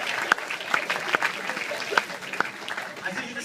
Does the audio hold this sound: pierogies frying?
no